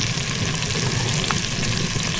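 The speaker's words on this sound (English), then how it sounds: "We're going to let that thing sizzle for just a minute." Meat searing in a Dutch oven for pot roast, a continuous close hiss and crackle of sizzling fat at an even level with no talking.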